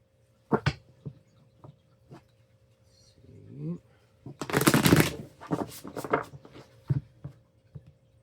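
Oracle cards are shuffled in a few quick riffling bursts, close and crisp, with a louder flurry midway, between scattered taps and light handling noises.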